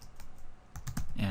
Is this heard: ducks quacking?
no